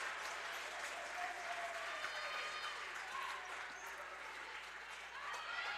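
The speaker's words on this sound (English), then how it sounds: "Crowd cheering on Alaska." Crowd cheering and applauding at a college volleyball match between Alaska and FSC during set point, a steady roar of voices and clapping that holds throughout.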